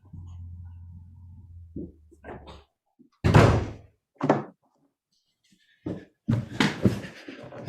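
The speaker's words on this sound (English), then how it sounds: "I'm just going to go shut this door over here where Councillor Steer is" Indoors during a council budget meeting, a door is shut with a solid thunk, among a few knocks and shuffling bumps, preceded by a low hum and faint movement.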